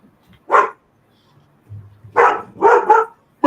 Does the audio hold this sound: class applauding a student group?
no